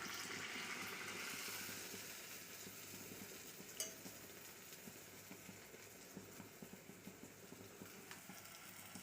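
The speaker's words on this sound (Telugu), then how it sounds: "వేడి నూనెలో వేసుకోవాలి" Urad dal vada batter dropped into hot oil, a steady dense hiss of deep frying with small bubbling pops and a faint clink partway through, fairly quiet and close.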